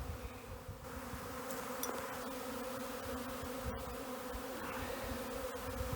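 A swarm of bees buzzes around a house, a dense, continuous drone of many wings with individual bees passing close, loud and unbroken, with no one talking.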